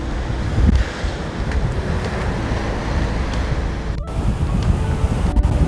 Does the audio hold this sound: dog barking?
no